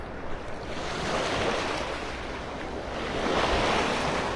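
Ocean surf rolls onto the sand at Delnor-Wiggins beach in North Naples, Florida, as a continuous loud wash of breaking waves, with wind buffeting the microphone.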